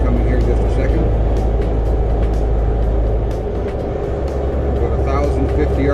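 A Volvo VN780 truck engine drones loud and steady while climbing a grade, with a slight drop in pitch partway through as the transmission upshifts, heard from inside the cab.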